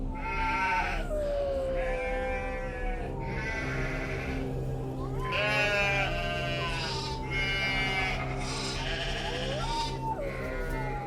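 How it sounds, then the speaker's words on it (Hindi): Goats in a pen bleat loudly again and again in wavering, drawn-out cries, several animals overlapping across a steady low hum. "बकरियों के जोर जोर से मिमियाने की आवाज से उसकी नींद खुली।"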